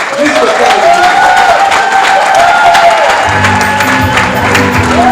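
An audience at a party congress in Gabon applauds and cheers loudly and steadily, a dense wash of clapping with a voice carrying over it and a low tonal sound entering in the last couple of seconds.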